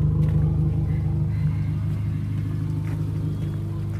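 A 2000 Honda Accord VTiL with a manual transmission idles with a steady, smooth low rumble throughout, close and even, with no talking.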